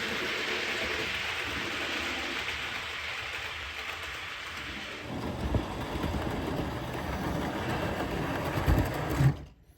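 A DCC model train runs through a freight bypass line: a quiet, steady hiss and hum, then a busier close clattering rattle in the second half that ends in an abrupt stop.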